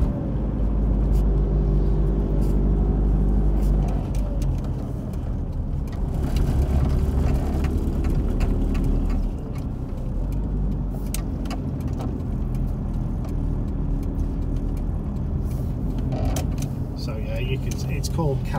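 A Rover Maestro car drives along a road, its engine rumbling steadily from inside the cabin with road noise and occasional rattles, while someone talks over it.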